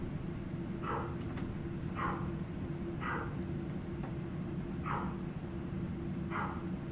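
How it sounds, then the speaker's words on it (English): Dog barking indoors at home: five evenly spaced single barks, moderately near, over a constant loud background hum and hiss. "the dog is going to start barking"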